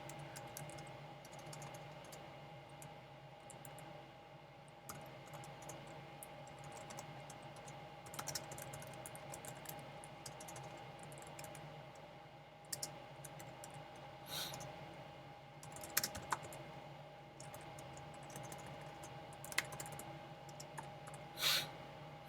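Code is typed on a computer keyboard, a steady faint patter of key clicks going on and off with a few louder taps, close and quiet, with no talk.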